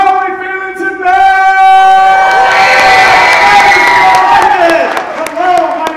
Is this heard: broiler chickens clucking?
no